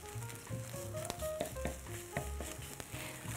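Eggs fry in a pan with a quiet, close sizzle broken by scattered pops and faint clinks, no voices over it.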